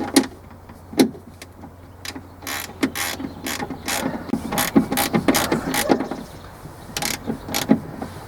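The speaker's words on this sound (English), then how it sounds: "I'm going to go ahead and use a 10mm socket to finish." Ratchet on a 10mm socket clicking steadily as bolts on the right front passenger door check strap of a 2001 Toyota RAV4 are tightened, close up with irregular bursts of sharp ratcheting and metallic handling sounds.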